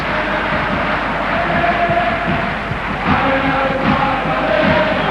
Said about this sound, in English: The crowd's making plenty of noise.